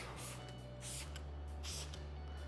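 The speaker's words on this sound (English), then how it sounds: "But this one, I'm going to spray it on." Several short airy hisses of a spray bottle of Armour Detail Supply Pilot Interior Cleaner, close by, over a steady low hum, with a couple of longer bursts.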